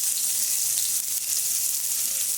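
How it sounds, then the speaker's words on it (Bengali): Onions go into hot mustard oil and give a loud, dense, hissing sizzle that carries on steadily for a couple of seconds, close up with no talking. "এরপর আমি এই গরম সর্ষের তেলে পেঁয়াজ দেবো।"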